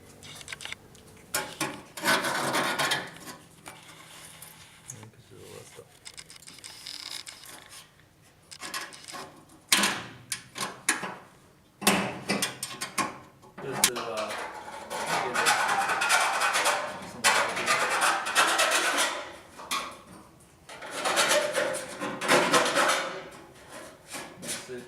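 Thin excess metal is scraped and rasped down while an intercooler is mounted, producing repeated close scratchy strokes in irregular bursts with short pauses, and faint speech now and then.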